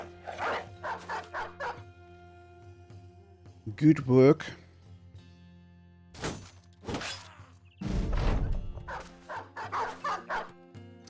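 In the Battle Brothers game, a dog gives several sharp barks and yips in short bursts, with pauses between them and impact thuds mixed in, while someone talks briefly over the action.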